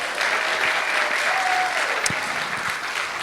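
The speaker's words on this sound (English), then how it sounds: "let's give them another round of applause too" An audience at the 2024 Engendered Spirit Awards gives the interpreters a round of applause, a dense, sustained wash of clapping for a few seconds with a brief whistle-like tone near the middle.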